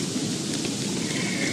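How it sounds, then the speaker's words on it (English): Steady rain from the video game Don't Starve hisses as a loud, continuous broadband wash of falling drops, alone with no voices over it. "Oh my god, the rain."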